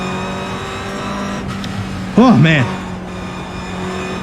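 Toyota GR86 race car engine in the iRacing sim, a steady drone under a voice, with a brief louder rev-like burst midway.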